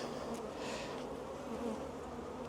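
Honey bees buzzing steadily in an open hive during a spring inspection, a dense, continuous drone close by with no voices.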